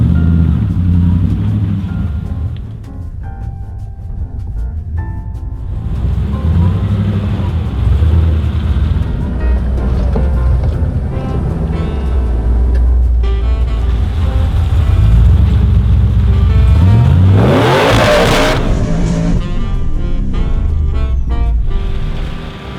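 A 4WD pushes along a muddy bog track in the Glasshouse Mountains, engine droning steadily and loudly throughout with a sharp splash or churn of water and mud near the middle.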